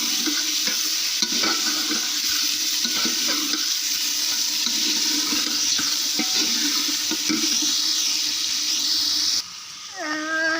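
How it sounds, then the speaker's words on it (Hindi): Chicken frying in a pan with a large tomato and four or five green chillies, a loud continuous close sizzle with occasional stirring clatter, cutting off near the end into quieter noise. "चिकन को मैं हमेशा बहुत अच्छी तरह से फ्राई करती हूँ"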